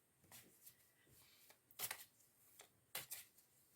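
Tarot cards are shuffled and drawn in a quiet room, heard as several soft, crisp riffles and flicks, with two louder card snaps near the middle and the end.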